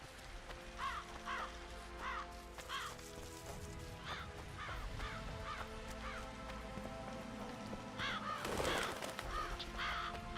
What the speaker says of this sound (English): Fucking birds scaring the shit out of me.